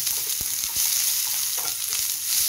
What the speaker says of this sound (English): Just saute away.